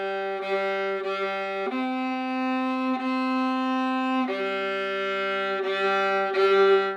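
A viola plays a simple slow melody of repeated sustained notes, clear and close, with no talking.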